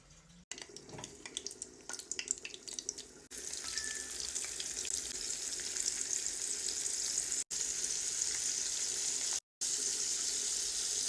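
Flour-coated sardines fry in hot oil with a steady, loud sizzle and crackle that holds almost throughout, broken only by two brief near-silent gaps, with some light clinks early on.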